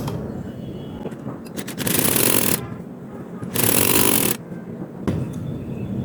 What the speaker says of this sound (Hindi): अब हम इसके आसन पे भी बिल्कुल वैसे ही सिलाई लगा देंगे जैसे हमने सामने वाले